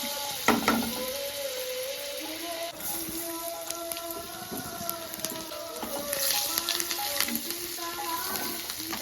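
Butter sizzling and frying in a pan for a chicken stew with winter vegetables, a steady close hiss with a few light scrapes of stirring, no talk.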